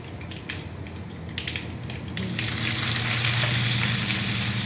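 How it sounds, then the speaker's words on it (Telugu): Green chillies and curry leaves fry in a pan for a cabbage fry, starting with sharp crackles and pops, then swelling into a louder, steady sizzle that carries on to the end. "కొంచెం బాగా వేయించుకోవాలి."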